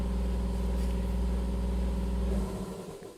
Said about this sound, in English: Okay, there, the air compressor shut off.